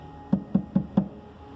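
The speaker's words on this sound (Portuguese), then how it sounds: "Estou à porta e bato." Four evenly spaced knocks on a door, close and fairly crisp, in a steady rhythm over a quiet background with no voices.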